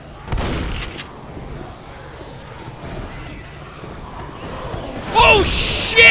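Gunfire and chaotic in-game noise from Left 4 Dead, with a burst of shots near the start and more impacts and shrill effects toward the end, layered over a dense background of combat sound.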